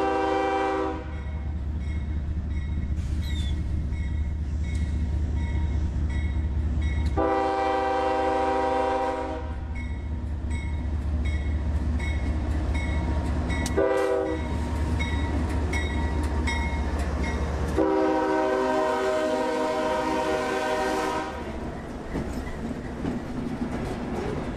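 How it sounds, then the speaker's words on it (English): CSX freight train B341 pulled by two six-axle GE wide-cab locomotives sounds several long, loud horn blasts over a steady low rumble of rolling cars. "B341 lugs his train into view behind a common consist of 2 6-axle GE wide cabs"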